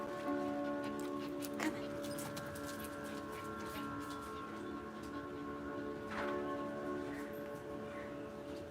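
Dogs whimper and whine at a door, wanting to be let inside. The soft whining is fairly continuous over a steady tonal hum, and no one speaks.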